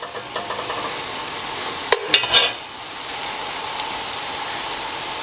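Garlic and onions fry in a pan with a steady, hissing sizzle. Partway through, a few sharp scraping stirs and clinks break in before the even frying noise returns.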